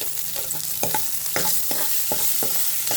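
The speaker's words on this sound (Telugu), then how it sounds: "దీంట్లోకి తెల్లగడ్డలు కొంచెం కరివేపాకు వేసి అలా వేసుకున్న తర్వాత ఉల్లిపాయలు వేసేస్తాను" Garlic, curry leaves and onions sizzle in hot oil as a spoon stirs them, making a steady close frying hiss broken by regular scraping strokes about twice a second, with nobody speaking.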